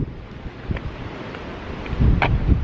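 Strong gusting wind outdoors in the UK roars as a dense, rumbling rush against the microphone, swelling louder toward the end, with no speech.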